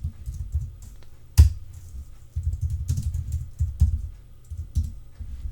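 Someone types on a computer keyboard, close up, while setting an IP address on a system. Short bursts of key clicks and taps are broken by brief pauses, with one louder keystroke near the start.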